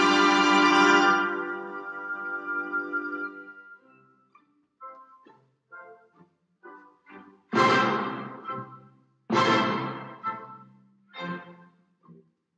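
An orchestra, led by violins and flute, plays the idée fixe melody from the first movement of Berlioz's Symphonie fantastique: a long sustained opening note, then a string of separate rising and falling phrases with brief pauses between them.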